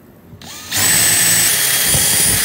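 A power drill with a 1/8 inch bit spins up after a faint click, then whines at a steady high pitch while boring a hole in a garage gym build, loud and close throughout.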